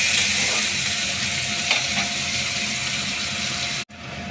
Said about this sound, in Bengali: সেই পেঁয়াজটা আমি লাল করে ভেজে নেবো